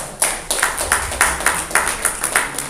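An audience applauds at a journalism event in India, a run of quick, fairly close claps with a steady rhythm and no voices over it.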